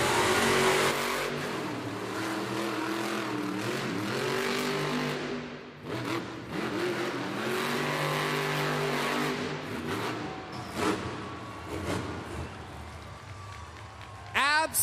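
A monster truck engine roars and revs through a timed arena race, loud and continuous with rising and falling pitch sweeps, while an announcer talks over it.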